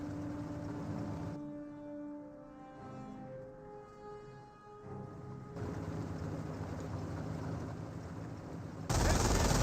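Rapid bursts of .30 cal machine gun fire in Company of Heroes mix with muffled battlefield rumble and booms, a sustained crackling barrage that thins briefly before resuming loudly at the end.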